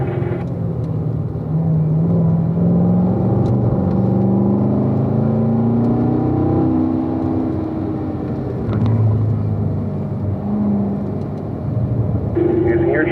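A Grand Sport car's engine pulls uphill on a race track under throttle, its rising drone and rumble swelling and easing in waves, heard from inside the car with an instructor talking over it.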